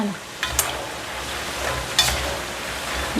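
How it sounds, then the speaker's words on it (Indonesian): Steady crackling and hissing of taro frying in hot oil, with a couple of brief louder sizzles and clatters. "Ini goreng tales ini lumayan lama."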